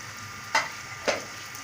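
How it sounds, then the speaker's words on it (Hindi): Onions frying in a pan over medium heat until brown give a steady soft sizzle, broken twice by brief stirring clatters. "जब तक हमारा प्याज ब्राउन होता है, हम इसकी आंच को दरमियाना कर देते हैं।"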